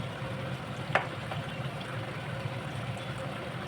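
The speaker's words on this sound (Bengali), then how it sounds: "ঢাকা দিয়ে এবার আলু কচু আমি সেদ্ধ হতে দিয়েছি।" Potatoes and taro simmer in a covered pot with a steady, soft bubbling hiss that stays even throughout, broken once by a faint click.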